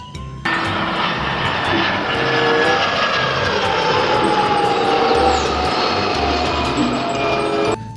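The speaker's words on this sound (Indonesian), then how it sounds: "Lihat, ini ada pesawat penumpang." A toy passenger airplane, white and blue, plays a steady electronic jet-engine sound effect with a mechanical rumble, starting abruptly and running loud and continuous for several seconds before cutting off.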